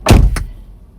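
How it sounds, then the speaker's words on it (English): Car door opened with a solid thunk and a quick second clack, loud and close, followed by quiet. "let me open this door."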